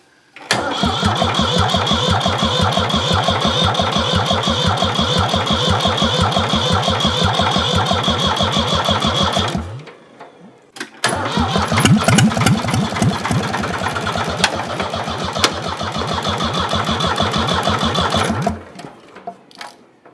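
A Ford 4000 tractor diesel engine cranks and fires, running with a steady loud clatter for about ten seconds, dies, then restarts and runs again before cutting out, close and alone.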